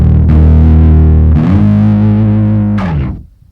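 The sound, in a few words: bass guitar through pedalboard with octave-down effect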